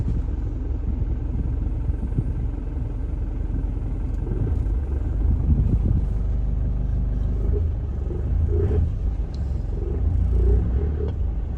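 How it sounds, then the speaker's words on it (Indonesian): Isuzu Panther LS Turbo 2015 diesel engine idling while warming up, a steady low close rumble that runs throughout, with someone talking quietly over it. "Ini sambil kita panasin mesinnya dulu"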